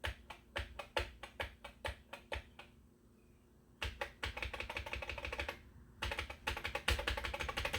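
Rapid, crisp key clicks from a ZX81 computer keyboard being typed on up close, with a short pause midway before the tapping resumes in a dense, steady run.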